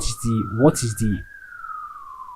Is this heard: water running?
no